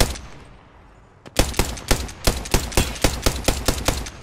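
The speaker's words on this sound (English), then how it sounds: "Opening fire." Video game gunfire erupts in a loud, sharp volley after a quiet start: about a dozen evenly spaced shots crack out in a fast, regular rhythm with no voices.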